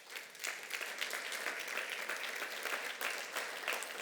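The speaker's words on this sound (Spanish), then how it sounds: "Denle un aplauso al Señor." A church congregation claps together in steady, dense applause that fills the whole stretch at an even, moderate level, with no voices rising above it.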